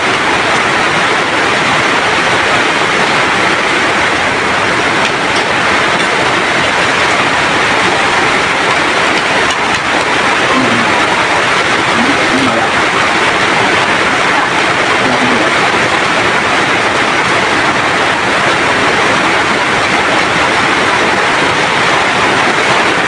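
Floodwater from a typhoon rushes into a house, a steady, heavy flow filling the whole recording, a continuous broadband roar without pauses, close and loud.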